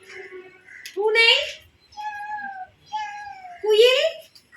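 A child imitates a cat, voicing about three drawn-out, whiny meows with rising and falling pitch. The meows come in a loose sequence, separated by short pauses.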